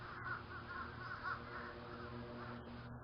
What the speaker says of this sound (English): Now I've got a flock of 500 crows flying over